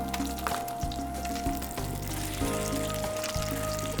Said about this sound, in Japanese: フライパンで焼くことによって、鯛の、油が落ちないんでジューシーに上がります